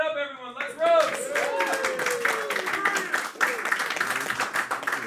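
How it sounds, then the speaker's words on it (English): A comedy roast battle crowd in New York claps and cheers for a few seconds, loud and dense, with a host's voice talking over the start. "Clap it up, everyone"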